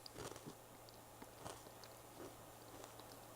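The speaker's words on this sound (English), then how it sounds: "Now let's take a crunch, a bite of our pretzel" Someone bites into a crunchy salted pretzel, giving a few quiet crisp crunches followed by soft chewing, close and faint, with no talking.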